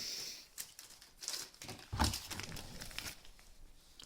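Thin plastic packaging bag from an ESEE Izula knife crinkles and rustles up close in several short handling bursts, with one sharper crackle near the middle and no talking.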